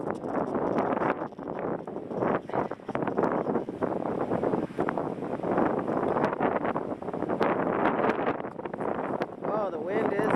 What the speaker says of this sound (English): Oh, the wind is ferocious.